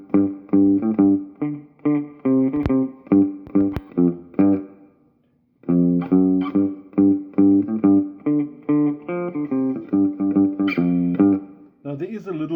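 Guitar playing Part A of a grade-3 piece, with short choppy strummed or plucked chords in a bouncy reggae rhythm, briefly pausing around the middle before resuming, close and fairly loud.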